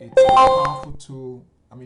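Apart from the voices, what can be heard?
trading indicator alert sounds on a computer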